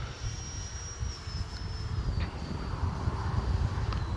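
FMS Viper 15th anniversary edition RC model jet in flight, a steady high whine from the electric ducted fan with a low rumbling wind-like roar, the pitch drifting slightly as it passes at moderate distance.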